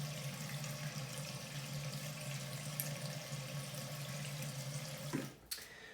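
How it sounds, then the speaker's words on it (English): Warm water runs steadily from a bathroom sink tap, a close, even hiss and splash that continues alone before a brief clunk near the end. "So you just want to turn the sink on"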